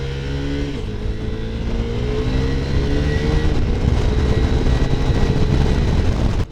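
KTM 390 Adventure motorcycle accelerating hard up to about 55 mph, the engine note climbing steadily through the gears with a brief shift dip, loud and close with wind roar throughout.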